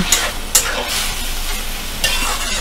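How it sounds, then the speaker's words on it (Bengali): Mixed dal khichdi ingredients are stirred in a pan over a high gas flame, with a steady sizzle and several sharp scraping strokes of the spoon close by. "সব উপকরণগুলো ভালো করে আমি মিশিয়ে নিলাম।"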